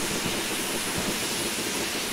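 An LMS Black 5 steam locomotive in Train Simulator 2016 on the Sheerness branch line, running with the regulator wide open, gives a steady, loud, dense chuffing roar and hiss that continues without a break.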